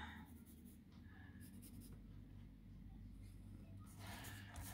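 A pen scratches straight lines across cardboard box material in short, soft strokes, faint and close over a low background hum.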